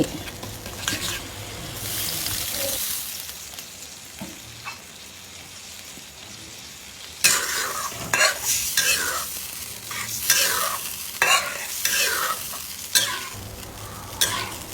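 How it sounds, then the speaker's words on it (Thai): Ingredients stir-fried in a pan after a splash of fish sauce, with a steady sizzle broken by repeated scraping strokes of the spatula that grow busier and louder in the second half. "ผัดส่วนผสมทุกอย่างให้เข้ากัน"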